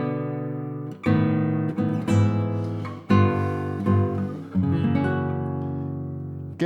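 Solo classical guitar playing a passage from the second movement of Agustín Barrios's La Catedral: plucked notes and ringing chords with sustained bass, several firm attacks spaced through the phrase, close and clear with no talking.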